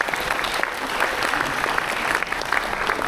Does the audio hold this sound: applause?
yes